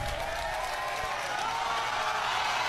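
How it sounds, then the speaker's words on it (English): A crowd cheers and applauds in a short meme clip, a steady, dense wash of clapping and shouting that holds loud throughout. "Oh, even the crowd's going wild."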